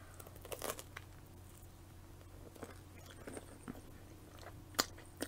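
Someone chews a salted homemade pretzel, giving soft, close, irregular bites and crunches with faint crinkles over a quiet room and no talking.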